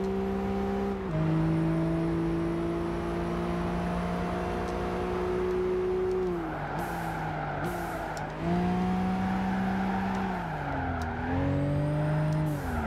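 A race car engine in Gran Turismo 5 on the final lap at Suzuka, a steady loud drone that holds pitch, dips briefly as it downshifts, then climbs again, with faint tire noise.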